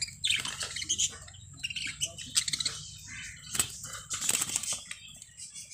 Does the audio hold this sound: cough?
no